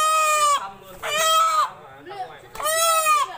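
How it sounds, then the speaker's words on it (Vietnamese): Chickens being caught let out three loud, harsh squawks in close succession, each lasting about half a second, with a voice talking nearby. "Giờ đây này đang bắt hai con gà này."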